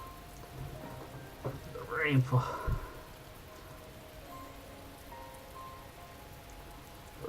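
Soft, steady rainfall in the visual-novel game The Fruit of Grisaia, a faint continuous patter broken midway by a brief chime-like sweep and a short voice.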